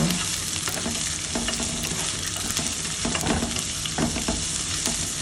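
Ginger sautés in a pot with a dense, continuous sizzle, while repeated scraping and clattering strokes of a spoon stir it, loud and close with no speech.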